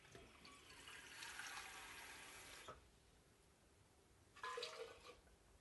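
Water pours into a blender jar in a home kitchen for green juice, a faint steady splashing stream lasting a few seconds, then a pause and a second short pour.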